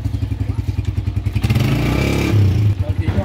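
A motorcycle arrives nearby, its engine putting out a pulsing, throbbing low drone that swells louder midway, with clattering thumps and people talking over it.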